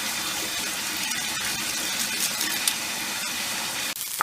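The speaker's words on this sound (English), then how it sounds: "I'm going to put my cup of rice into a strainer, and I'm going to rinse it." A cup of rice rinsed in a strainer under running tap water: a steady, close rush of water throughout, ending in a small clunk.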